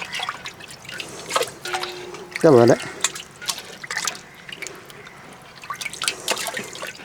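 Water splashes and trickles in a bowl as raw chicken is washed for a Kerala-style chicken biriyani in a home kitchen, mostly under steady speech with a brief louder burst of running water midway.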